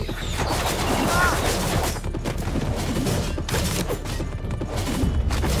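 Dense, continuous gunfire from the mobile war game Road to Valor, loud volleys and overlapping shots rattling without pause, with a brief shouted voice.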